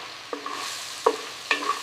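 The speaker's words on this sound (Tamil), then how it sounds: "இப்போ ஊற வச்ச பாகற்காயை பிழிஞ்சு நல்லெண்ணெயில் வதக்கினா" Soaked, squeezed bitter gourd sautéed in sesame oil in a pan, with stirring scrapes and three short clatters amid a soft steady sizzle, close and fairly quiet.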